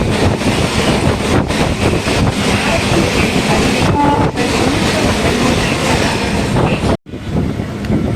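A Chennai suburban local train runs on the line toward Mambalam station, a loud, steady rumble with wheel clatter and wind buffeting throughout, cut by a sudden brief dropout near the end before the noise resumes.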